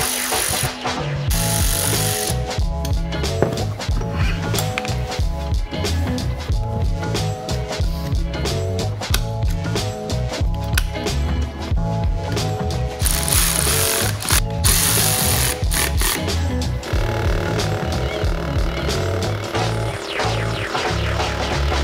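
A compressor motor taken apart with hand tools, giving continuous rapid ratcheting and metallic clicking with tool rattles, close and steady for over twenty seconds.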